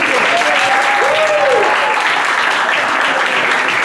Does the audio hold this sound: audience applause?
yes